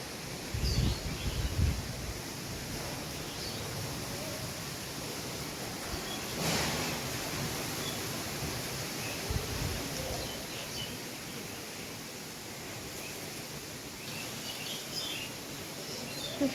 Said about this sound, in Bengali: হাওয়া হচ্ছে খুব।